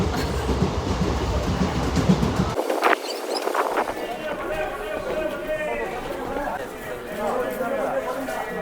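A train at Mysuru railway station rumbles and clatters nearby, with people talking over it and a brief drop in the low rumble midway.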